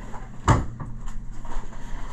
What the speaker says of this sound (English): Drawer down there.